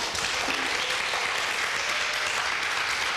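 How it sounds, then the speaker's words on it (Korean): Continuous audience applause at a business speech event, steady and fairly distant clapping from a crowd, even in loudness throughout with no voices on top. "여러분 박수 쳐주고 너무 감사한데요"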